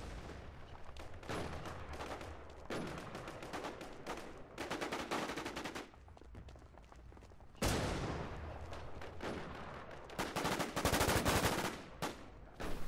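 Bursts of automatic and single-shot gunfire in a tactical shooting video game, rapid repeated shots coming in clusters with short pauses, loud and close throughout.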